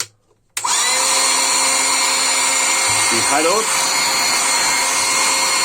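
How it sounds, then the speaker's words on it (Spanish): A Hychika air compressor's fan blows air out through a tube: a loud, steady whooshing hum that switches on abruptly and holds constant, with a brief voice in the background. "por aquí tiene un ventilador, aquí, en este lado, y lo que hace es sacarnos aire por este tubo"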